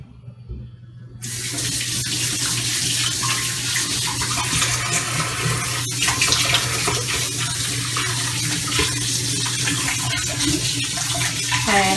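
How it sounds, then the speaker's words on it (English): Running tap water pours steadily into a kitchen sink as hands are washed, a continuous broadband splashing rush that stays fairly loud and even after starting abruptly about a second in. "let me just wash my hands quickly"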